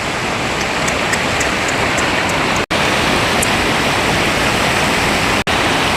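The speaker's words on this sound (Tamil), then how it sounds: "எவ்வளோ பெரிய ஏரி பாருங்க, எவ்வளோ தண்ணி போகுது பாருங்க மக்களே." Loud, continuous rush of water flowing out of a large lake, a steady broadband roar close by, with two very brief dropouts.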